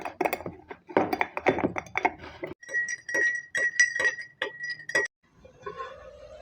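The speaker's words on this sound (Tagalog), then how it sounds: "Lagyan po natin ng ice." Ice cubes dropped into a glass of water sweetened with brown sugar, with a quick run of loud clinks and knocks followed by a series of brighter, ringing glass chinks as the cubes settle, no talking.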